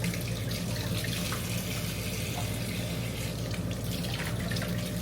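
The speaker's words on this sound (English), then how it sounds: "That's why I say run it under cold water." Cold tap water runs steadily over a cut onion in a home kitchen sink, a continuous close splashing stream with no voices.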